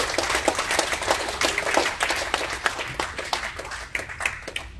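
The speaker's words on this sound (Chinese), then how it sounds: "大家掌声热烈欢迎" Audience applause welcoming the first vice president of the Chui Huay Lim Club to give a speech at an evening competition event, a dense steady wash of many hands clapping throughout, loud and continuous without a break.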